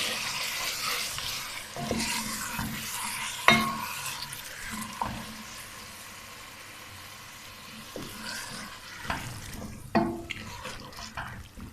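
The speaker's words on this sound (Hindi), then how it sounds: "अभी हम इसमें डाल देते हैं गोश्त। और गोश्त डाल के अच्छी तरह भून लेते हैं।" Mutton sizzling and frying in a pan, with scraping stirs and a few clanks of a spoon against metal, a steady close hiss throughout.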